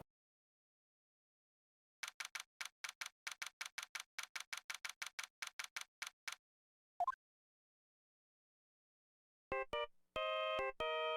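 In the Ace Attorney game, a fast run of quiet, evenly spaced ticking blips is followed by a short chirp. After a pause comes a bright, tonal melody that sounds like a phone ringtone.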